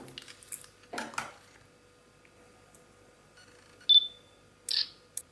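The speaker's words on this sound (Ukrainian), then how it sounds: "І якщо ви посміхаєтесь, то камера буде робити автоматичні фотознімки." A Nikon Coolpix L25 compact camera fires off automatic smile-triggered shots in a quiet room, giving a few soft clicks, one short electronic beep and another brief shutter snap, with silence between them.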